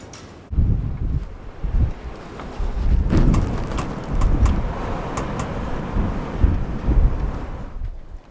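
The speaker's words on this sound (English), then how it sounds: "Is that the sound of wind coming in or something trying to get out?" Wind blowing and buffeting outdoors in a reputedly haunted town, a loud rough rumble with gusty swells and rustling that carries on steadily for several seconds.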